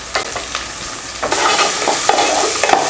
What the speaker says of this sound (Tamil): முள்ளங்கியை இது போல் எண்ணெயில் வதக்கி நம்ம சாம்பார் செஞ்சோம்னா